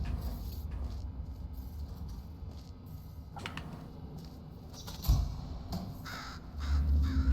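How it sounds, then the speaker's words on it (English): A crow caws in the puzzle video game Portal Stories: Mel, giving a few harsh calls over a steady background hum, with a low thud near the end. "Bird."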